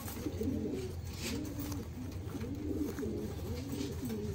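Several Lakhy pigeons give continuous low rolling coos close by, the calls repeating in overlapping phrases over steady background noise.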